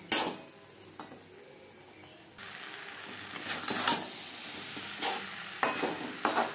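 Food sizzles steadily in a pan on a medium-to-low flame while a utensil stirs it, giving several close scraping and clinking strokes over the constant frying hiss, with no voices.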